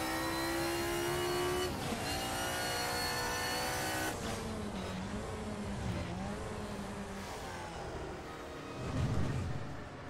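A race car engine in the video game Assetto Corsa, DRM Revival mod, revs high and shifts through gears, pitch climbing and dropping in a steady, loud drone with a brief deeper roar near the end.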